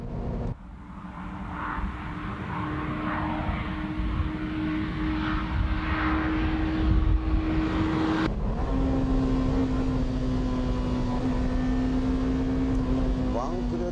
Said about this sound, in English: Let's see how the car reacts at full throttle without slalom.